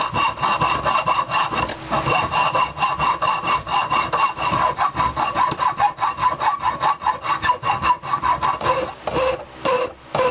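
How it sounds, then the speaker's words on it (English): A hand file rasps back and forth across a homemade knife blade being shaped, a fast rhythmic series of scraping strokes, close and loud, continuing steadily for the whole stretch with no speech. "the rest I'm going to take it in with the file"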